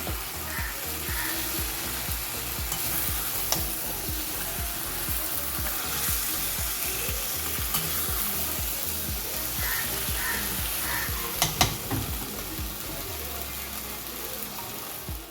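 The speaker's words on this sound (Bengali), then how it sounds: "মাংসটাকে এখন ভালো করে কষাচ্ছি, কারণ মাটন একটু ভালো করে না কষালে তার টেস্টটা ভালো হয় না।" Marinated mutton sizzles and fries in a pan while being stirred, a loud, dense crackle running continuously with occasional scrapes and clinks.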